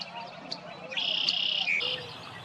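Birds sing along the edge of a lake in Maplewood Park, a bright trilling call rising above a quiet outdoor background, fairly close and lasting about a second before fading.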